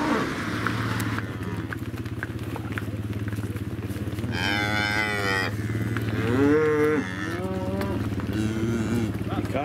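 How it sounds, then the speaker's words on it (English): Cattle mooing as a herd walks past near Illgill Head, several long, loud, close moos over a low engine-like rumble, with faint voices in the background. "Actually might leave you with a load of cows walking past."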